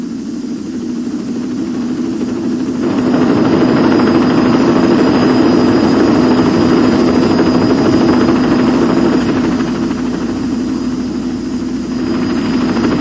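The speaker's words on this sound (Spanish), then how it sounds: "¿Es un helicóptero? Está aterrizando en el estacionamiento." A helicopter setting down in a parking lot, its steady heavy rotor and engine drone swelling louder partway through, then easing slightly, continuous and close, with no talking.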